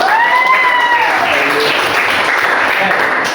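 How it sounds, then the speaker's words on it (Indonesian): A crowd claps steadily for a few seconds, dense and loud, with a couple of whistle-like tones rising over the start. "Oke, tepuk tangan dong buat kita semuanya."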